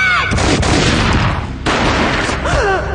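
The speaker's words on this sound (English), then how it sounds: "A gunshot boomed and she fell down in slow motion." Loud, dense burst of gunfire and booming blasts from Max Payne mobile filling the whole stretch, with a brief dip midway, layered over game effects.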